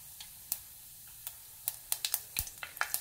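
Mustard, cumin and fenugreek seeds fry in hot oil over a medium flame, giving off sharp, scattered pops and crackles that grow more frequent against a quiet, faint sizzle.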